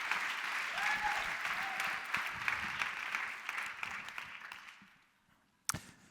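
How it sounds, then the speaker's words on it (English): An audience claps in sustained applause for a speaker being introduced, holding for several seconds before fading out, followed by one sharp knock. "round of applause for Max Hoppy."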